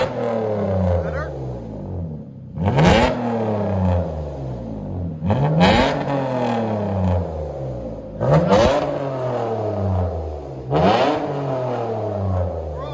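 A 2005 Mitsubishi Eclipse V6 with an aftermarket exhaust and Vibrant bottle resonators revs hard four times, each blip rising into a loud, raspy roar and falling back to a burbling idle, recorded close up.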